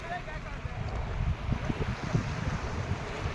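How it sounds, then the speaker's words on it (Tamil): Sea waves washing onto Manappadu beach: a low, uneven surging wash with soft rumbling pulses under steady wind buffeting on the microphone, close and moderately loud, with a voice nearby. "அலை வருது பார்த்தீங்களா"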